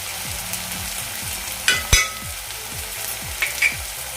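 Ground spices stirred into softened tomato sizzle steadily in a hot pan for a dry bombil (Bombay duck) dish, with a couple of sharper spoon scrapes and crackles over the constant frying hiss.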